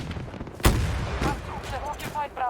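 Gunfire in the Battlefield 2042 video game: one sharp, loud shot bursts out, followed by scattered further reports and a few distant cracks, with speech-like game chatter running faintly underneath.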